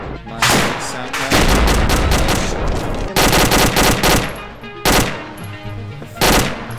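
Rapid full-auto gunfire bursts in the video game Arma Force, loud and close, with several long sustained strings of shots separated by brief pauses.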